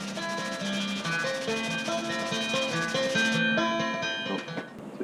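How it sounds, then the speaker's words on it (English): Coarse-grit sandpaper roughs up the inside of a cavalry sabre handle before epoxy, making a close, steady rasping rub with squeaky tonal scraping strokes that fade near the end. "I'm gonna rough up the insides of this a little bit so the epoxy sticks a little bit better"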